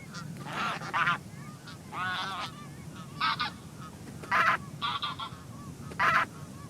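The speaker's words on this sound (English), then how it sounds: "They're a chatty bunch, geese." A flock of geese honk in flight over volcanic countryside in Auvergne, a string of nasal calls in irregular bursts, fairly close, with a soft rushing background.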